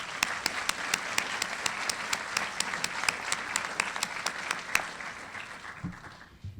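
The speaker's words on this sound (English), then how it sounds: "let's have a round of applause for the parents here" Audience applause for the parents at a high school senior night, a steady wash of many hands clapping with a few sharp individual claps standing out, fading away near the end.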